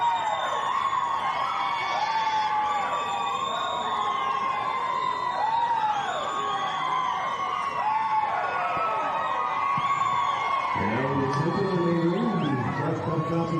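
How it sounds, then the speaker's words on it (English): A crowd at an agricultural show's main ring cheers and whoops steadily throughout, with high shouts and calls layered over a constant murmur of voices. "You can hear the crowd."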